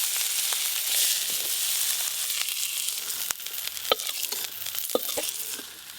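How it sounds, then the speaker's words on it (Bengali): Shrimp sizzle lightly in hot oil in a pan, a steady close frying hiss broken by sharp taps and scrapes of a utensil stirring. "চিংড়ি মাছগুলো আমার হালকা করে ভাজা হয়ে গেল।"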